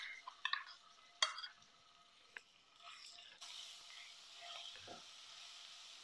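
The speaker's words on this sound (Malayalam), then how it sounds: "2 ടീസ്പൂൺ വെളുത്തുള്ളി ഇഞ്ചി പേസ്റ്റ് ഇട്ട് കൊടുക്കുന്നുണ്ട്." Garlic ginger paste frying in coconut oil over a low flame, a faint hiss broken by spoon clinks and stirring scrapes, then a brighter sizzle swelling near the end.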